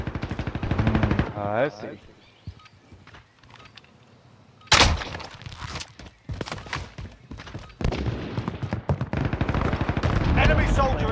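Call of Duty: Modern Warfare gameplay gunfire: bursts of rapid automatic shots, loud and close, broken by quieter gaps, with a person talking in between.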